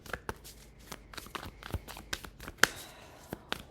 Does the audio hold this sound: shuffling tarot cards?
yes